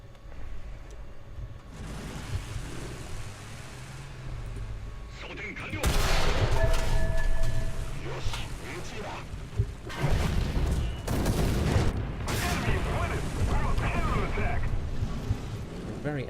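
Anti-aircraft artillery in War Thunder rattles in dense bursts of rapid fire with booming impacts. The fire starts loud and carries on in repeated volleys over a low game rumble, with speech in the background.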